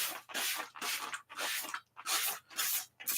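A spray bottle hisses in about six quick bursts while cleaning a floor, each a short breathy spritz separated by brief pauses, close and fairly quiet.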